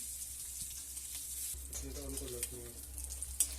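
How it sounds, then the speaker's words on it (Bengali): Halved eggs seasoned with salt, turmeric and chilli powder fry in oil in a pan with a faint, low sizzle, and a short voiced sound appears partway through. "তারপর ডিমগুলোকে ভালো করে ভেজে নেব।"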